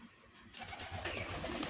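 Soft, faint cooing of Murshidabadi Tolgoram pigeon chicks starting after a brief pause, low repeated murmurs over quiet background noise.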